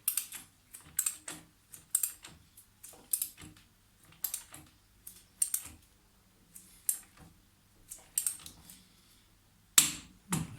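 A nut on a Triumph Trident T150 motorcycle primary chaincase is tightened with a locking tool in place, giving a series of sharp, close clicks in an irregular rhythm, followed by one louder final snap.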